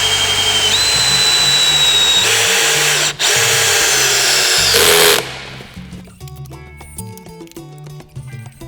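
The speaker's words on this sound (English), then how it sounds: "I'm going to go in and drill a hole this way" A power drill bores a hole in wood for a bench, whining loudly and steadily for about five seconds with the pitch shifting under load, then stops, leaving quieter workshop sounds.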